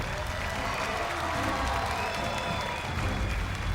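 An audience applauds at a talent show semifinal with a steady, even wash of clapping from a large crowd that holds at the same level throughout, heard from a distance rather than up close.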